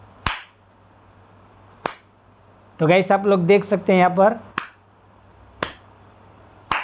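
Sharp hand claps trigger a sound-activated stage par light, coming as single claps spaced well apart, with a stretch of talk in between.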